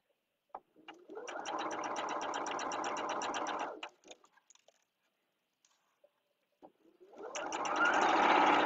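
A sewing machine stitches a quilt block in two loud, steady runs, a few seconds each, split by a short pause with light handling clicks, with no talking.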